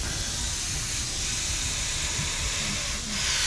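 An airbrush sprays paint in a steady hiss of compressed air, continuous and fairly close, swelling slightly toward the end with no talk over it.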